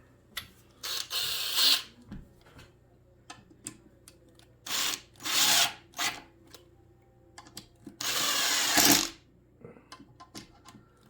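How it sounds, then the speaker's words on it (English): A power drill whines in several separate bursts of a second or so, with quieter clicks and handling noises between them, as it drills out cedar wood parts while assembling a kit. "Got that nice smell of cedar drilling these out."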